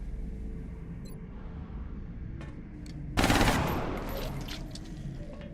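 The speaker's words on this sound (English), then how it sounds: "Firing on target position" Gunfire erupts in the turn-based strategy game XCOM Long War: a sudden loud burst of automatic shots and impacts midway, following a low rumbling background with a few faint clicks.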